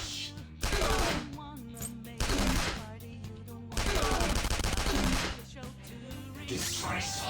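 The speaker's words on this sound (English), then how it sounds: "Let's test the waters with a shot" Gunfire from a Persona 5 Royal battle, several loud bursts of shots separated by short gaps, with game music and effects underneath.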